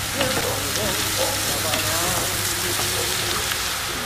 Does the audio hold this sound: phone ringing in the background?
no